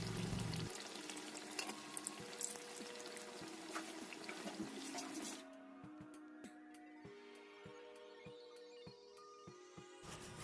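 Bread pakora frying in hot oil while being turned, a dense close sizzle that drops abruptly partway through to a quieter, softer bubbling with faint clinks, no talking.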